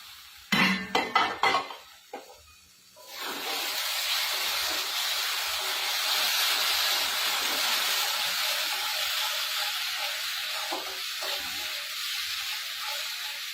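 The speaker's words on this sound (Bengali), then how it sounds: "এখন আমি ঢাকনাটা উঠিয়ে নেব" Clattering metal clinks as a lid is lifted off a pot of cooking tomatoes, a few sharp knocks at first, then a steady close hiss of steam and sizzle continuing alone.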